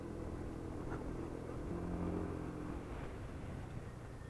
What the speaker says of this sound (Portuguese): Aqui já começa a ter moto pra caramba